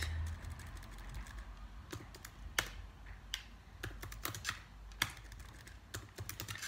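Fingers type on a computer keyboard in quick irregular bursts of clicking keys, close and steady, with a few louder taps and brief pauses between runs.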